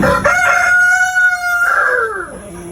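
A heritage chicken rooster, Dark Mahogany breed, crows loudly and close by in a single long call that holds steady and then trails off, with no talk over it.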